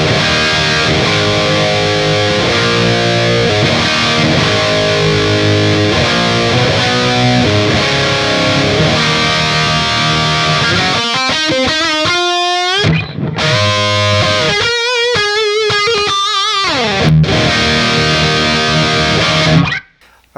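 Electric guitar driven through a Boss SD-1 overdrive pedal plays a distorted, crunchy riff, with sustained chords, bends and brief pauses, loud and up close.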